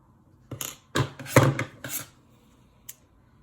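Scissors snip excess yarn on a crochet bear in a few close, quiet cuts and rustles, followed by a single faint click.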